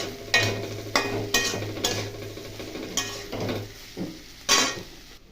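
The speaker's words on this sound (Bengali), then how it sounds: "সেদ্ধ করে যে আলুটা রেখেছিলাম, আলুটা দিয়ে আমি এটা কষে নেব" Boiled potatoes being stir-fried with spices in a pan, a spoon scraping and clattering against the metal in a run of sharp strokes over a low oil sizzle, with no talk.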